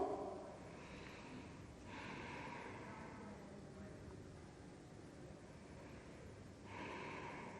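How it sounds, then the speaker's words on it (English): Slow, deep breaths during a yoga flow, faint and close, with long airy inhales and exhales rising and falling in a few drawn-out cycles. "Take some deep breaths here."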